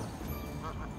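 A goose honks close by, a few short nasal calls over steady outdoor background noise.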